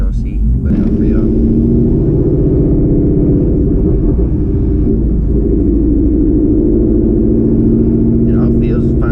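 Ford S550 Mustang with a stick shift, fitted with BMR drag springs and a Steeda anti-hop kit, driving with a steady loud engine and road rumble throughout, while people talk inside the cabin.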